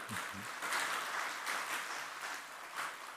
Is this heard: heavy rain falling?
no